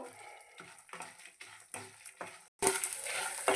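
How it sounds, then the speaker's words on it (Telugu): A small piece of ginger and four or five garlic cloves frying in a pan for stuffed okra curry: soft rhythmic stirring taps at first, then a sudden loud, steady sizzle near the end. "ఇందులోనే చిన్న అల్లం ముక్క అండి, ఒక 4-5 వెల్లుల్లి రెబ్బలు అయితే వేస్తాను. చక్కగా వేయించేసుకుందాము."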